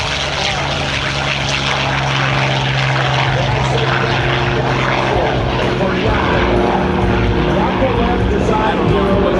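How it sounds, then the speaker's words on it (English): A Yakovlev Yak-9 propeller warbird flies at an air show, its piston engine droning loud and continuous with a throbbing propeller tone, while an announcer's amplified voice talks over it. "This is a Yak-9."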